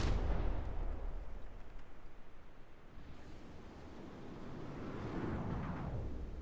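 Small missile launcher firing and exploding in the video game From the Depths, a heavy boom at the start fading into a rumbling roar, then a second swelling rush of explosive noise.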